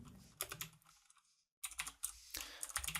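Close, quick keystrokes on a computer keyboard while entering C# code, in short clattering bursts separated by a brief silent pause.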